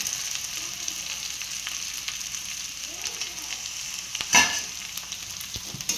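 Onion, turmeric and mashed potatoes fry in a pan with a steady close sizzle and crackle, with occasional stirring scrapes and a brief louder clatter midway.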